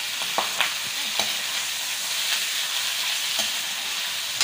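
Chicken pieces sizzle and fry in a pan with pork and garlic for pork and chicken adobo, a steady close crackling hiss with a few clinks of stirring.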